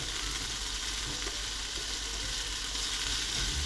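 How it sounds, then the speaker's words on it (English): Pasta pieces frying in a pan for a creamy curry-mango sauce, giving a steady, loud, continuous sizzle with faint stirring underneath and no voices. "try to fry it from all sides."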